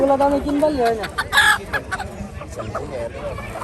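Chickens and ducks at a large village poultry market in Haluaghat, Mymensingh: a loud, close rooster-like squawk slides downward, followed by clucking and scattered bird calls, with market voices underneath.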